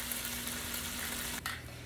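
Chicken browns in a pan with a steady, fairly quiet sizzle and crackle of frying, with a brief break near the end before it continues.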